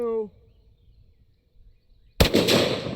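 A single sharp, loud report from a .50 AE pistol firing 300 grain jacketed hollow points cracks near the end after a short quiet pause, its blast ringing briefly; a voice is heard just before.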